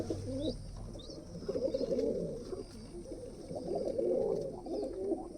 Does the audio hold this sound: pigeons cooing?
yes